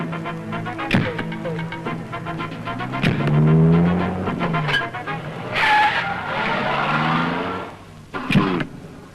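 A car revs and pulls away with tyres squealing, its engine note rising and falling in sweeping surges, a sharp skid midway and a few thumps before it fades, loud and close with no talking.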